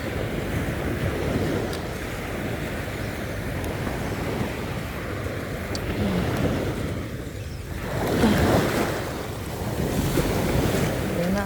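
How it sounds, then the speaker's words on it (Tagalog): Sea waves wash and break on the shore in a continuous rolling surge, swelling louder near the end, with heavy wind buffeting the microphone and no talk. "Ang dagat."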